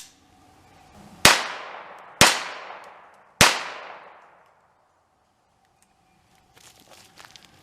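Three sharp, loud gunshots from a Stoeger Luger .22 semi-auto pistol firing Aguila ammunition, spaced about a second apart, each with a decaying echo, followed by quiet and faint handling noise.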